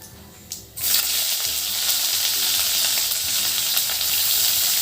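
After a brief quiet moment, a loud, steady sizzle of onions frying in hot oil fills the clip, broad and continuous to the end.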